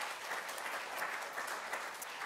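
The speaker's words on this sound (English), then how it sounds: "And so a round of applause to all of our champions of change who are here today." Steady applause from an audience honoring champions of change at a disability advocacy event marking the Americans with Disabilities Act anniversary, a dense even wash of clapping throughout with no speech.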